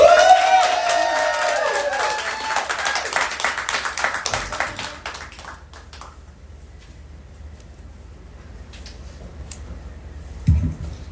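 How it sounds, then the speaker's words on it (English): The audience at an open mic night claps and cheers loudly for a performer coming up to the stage, then the applause thins out and fades into a near-silent room, with a brief bump near the end. "Clap her up, folks."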